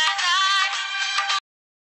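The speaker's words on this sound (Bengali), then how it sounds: "ফোন বাজে" A mobile phone ringtone plays a loud, bright electronic melody for about a second and a half, then cuts off abruptly into silence.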